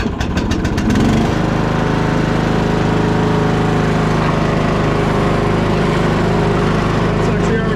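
Craftsman LT2000 lawn tractor, once seized and now freshly oiled, with its small engine running steadily and close up, after a few sharp clattering bursts at the start; no talk.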